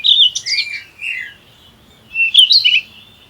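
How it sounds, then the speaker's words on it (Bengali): A bluebird gives clear, high chirping calls, two bursts of quick tweets separated by a short pause, close and loud with no other sound. "নীল পাখি ইংরেজি ব্লু বার্ড"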